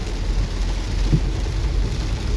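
Heavy rain pours steadily on a highway service road along NH-75 between Bangalore and Mangalore, where flyover work has stopped, making a dense, constant hiss with a low rumble underneath and no voices.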